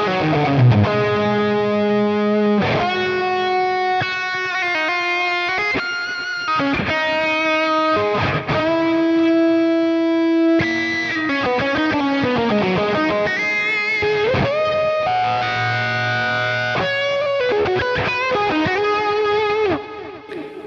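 Electric guitar lead tone through a Helix Trainwreck amp model, heavily distorted, playing continuous sustained melodic lines with bends and fast runs, loud and upfront with no talking.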